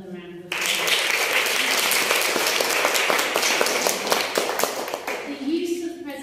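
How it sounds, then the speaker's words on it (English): An audience applauds young child presenters at a book festival, with a burst of clapping starting abruptly and holding strong and close, then thinning at the end as a voice returns. "So let's give them another round of applause."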